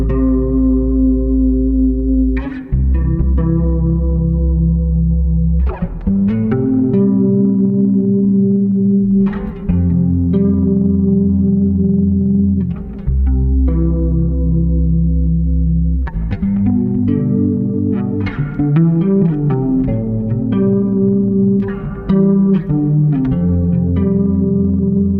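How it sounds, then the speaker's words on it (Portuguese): Bass guitar played through a chorus effect from an HX unit plus a short-tail reverb set at a low mix, a continuous run of sustained, shimmering notes and chords with plucked attacks, loud and close with no talking. "ele tem um chorus dentro da HX, mais um reverb de cauda pequena, uma mix um pouco mais baixa para não embolar o som"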